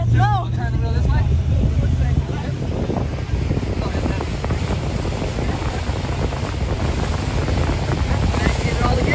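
A motorboat engine runs under steady throttle, a continuous loud drone mixed with heavy wind buffeting the microphone and water rushing past the hull, with a voice briefly audible at the start.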